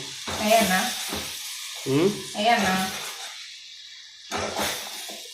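Tomatoes hiss and sizzle in a hot pan in a home kitchen, steady frying crackle with stirring scrapes, under a woman's and others' conversational voices that come and go.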